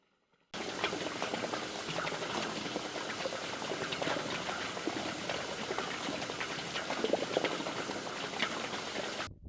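Groundwater recovering inside a water well casing after air-lift cleaning, heard as a steady, dense trickling and bubbling wash of splashing water that runs continuously and fairly close, with no voices.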